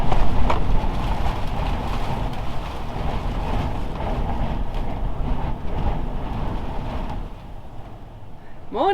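Steady gusting storm wind roars and rumbles against a parked van on the Beara Peninsula, Ireland, buffeting continuously for several seconds with a brief creak near the end.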